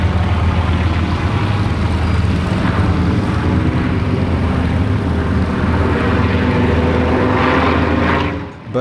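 Yak 52 and Nanchang radial-engine warbirds fly in a massed group, a loud, continuous droning propeller hum that sustains throughout and dips briefly near the end.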